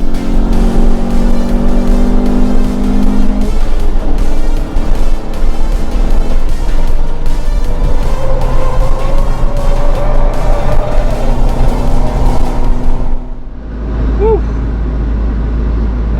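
A Scion tC lapping a race track on a track day, its engine droning loud and close from inside the cabin with rising and falling revs and shifts, before the roar cuts off and a quieter idle remains near the end.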